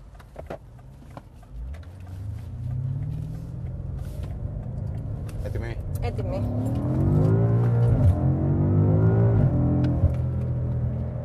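A BMW M5 accelerates with a rising engine note that builds and climbs in pitch, heard from inside the car, growing louder toward the end.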